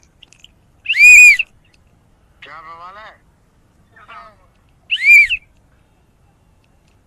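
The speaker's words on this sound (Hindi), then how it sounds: "सीटी के जरिए पूरा बात करते हैं।" A holy man at the Mahakumbh 2025 gathering communicates by whistling: two loud, sharp, piercing whistles, one early and one later, with a man's speech in between.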